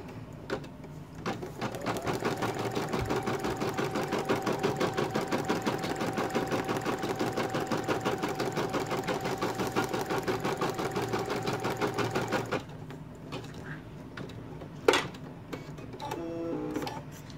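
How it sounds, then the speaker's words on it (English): An embroidery machine sews a placement stitch on hooped stabilizer, a rapid rhythmic mechanical chatter running for about twelve seconds before stopping, followed by a few faint handling clicks. "It's going to do a placement stitch."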